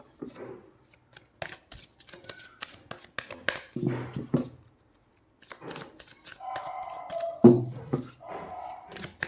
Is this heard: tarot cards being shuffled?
yes